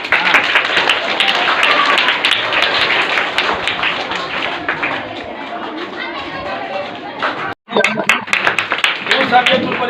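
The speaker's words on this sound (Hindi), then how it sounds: "तालियां हो, तालियां।" A crowd of students and parents claps for a student at a school results ceremony in Imamganj, Patna, with steady, dense applause mixed with chatter. A brief dropout comes near the end before the clapping resumes.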